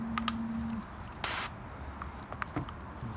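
A hose spray nozzle set to mist fires a short hissing burst of water onto coated car wheels, about a quarter second long, close and loud over quiet outdoor background with a few faint clicks.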